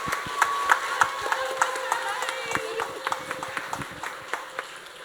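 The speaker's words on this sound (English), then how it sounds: "Can we give all of our friends a round of applause?" Scattered clapping from an audience at a Year 3 school assembly, with uneven, light claps spread across the room. A voice is heard faintly beneath it.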